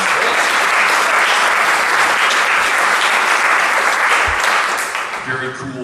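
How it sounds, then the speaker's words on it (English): An audience at a songwriter contest show gives the tech crew a round of applause, a full steady wash of clapping that fades as a voice begins at the end. "Let's give them a round of applause"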